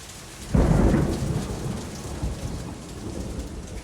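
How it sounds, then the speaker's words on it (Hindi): A sudden crack of thunder rolls out over heavy, steady rain pouring down, the rumble fading while the downpour continues. "हे भगवान, ये तो भयंकर बारिश है"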